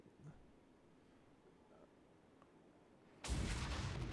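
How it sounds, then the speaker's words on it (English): A rocket fired by a unit in the video game Armored Brigade, heard as a sudden loud, broadband blast-and-roar bursting in near the end after a quiet stretch and carrying on to the close. "Looks like this unit fired a rocket."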